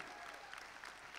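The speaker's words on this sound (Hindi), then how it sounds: "Well, ladies and gentlemen, जोरदार तालियां for Monty." Audience applause at a film re-premiere for the cult classic Karz, a steady, fairly quiet patter of many hands clapping throughout.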